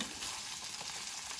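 Rice frying in oil in a pan for basic fried rice, a steady close crackling sizzle with no talking.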